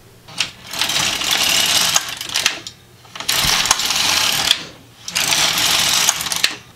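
Three long, even sweeps of an LK150 knitting machine carriage knitting rows, each a steady mechanical rush lasting over a second and separated by short pauses, close and fairly loud with no talking.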